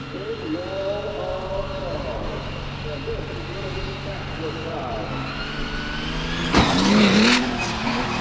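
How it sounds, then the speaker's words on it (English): A diesel truck roars and revs at a motorsport exhibition, engine whining as it approaches a center stack, then a louder surge and crash-like burst as it flips and lands, with a commentator talking over it. "Dave Radzirez with the diesel backflip."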